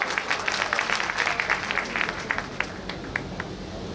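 A crowd at a Bahujan Samaj Party gathering in Delhi welcomes a national executive member with dense, continuous applause: many overlapping hand claps, fairly loud and sustained throughout, with no talking on top.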